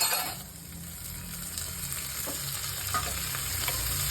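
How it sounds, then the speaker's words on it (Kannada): Dill leaves drop onto fried onions in a pan for an upma with field beans, giving a steady, close hiss of sizzling oil with faint stirring scrapes throughout, no voices. "ಈರುಳ್ಳಿ ಫ್ರೈ ಆದಮೇಲೆ ಸಬ್ಬಕ್ಕಿ ಸೊಪ್ಪು ಹಾಕ್ತಾಯಿದೆ"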